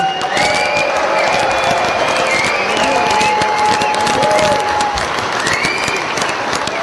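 A crowd at a 2022 NORRA Mexican 1000 off-road race drivers' meeting gives a loud, sustained round of applause with some cheering, thanking race staff and volunteers.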